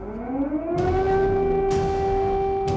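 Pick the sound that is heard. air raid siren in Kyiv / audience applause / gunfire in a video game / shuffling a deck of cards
air raid siren in Kyiv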